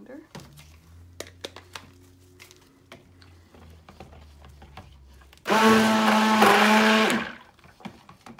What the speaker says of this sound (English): Blender.